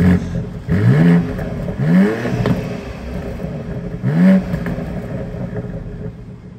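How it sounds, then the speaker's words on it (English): A 2022 BMW X3M Competition with its active exhaust open revs hard three times in quick bursts, each sharp rise in engine note falling away between blips, close and loud with no one talking. "why don't we show you guys a really quick rev clip."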